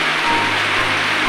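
Heavy rain pours down in a steady, dense hiss that stays loud and unbroken, with no voices.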